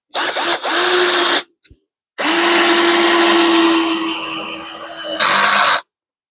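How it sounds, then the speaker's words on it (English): A 21V cordless drill drives decking screws into wood in loud, close bursts: two short whirs, then one long sustained run that grows harsher near its end as the clutch engages. "we'll just run these decking screw in, see if we get some clutch action"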